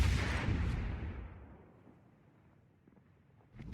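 Main cannons of the battleship Nagato firing in World of Warships: a heavy booming blast that opens loud and decays into a long rolling rumble, with another sharp report starting near the end.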